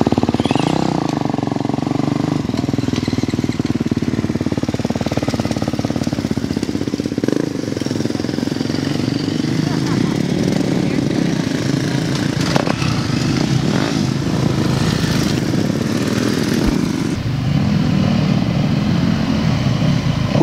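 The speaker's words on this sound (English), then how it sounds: "Who's gonna stall their bike first?" Several dirt bike engines drone and rev steadily on a private track, a continuous buzzing roar with rising and falling pitch that never lets up, moderately close and without clear talk.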